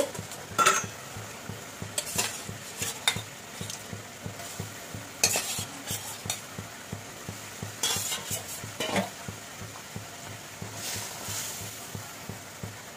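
Soaked paneer cubes are tipped into a pan of simmering shahi paneer gravy and stirred, a spoon scraping and clinking against the pan in an irregular rhythm over a soft, steady sizzle.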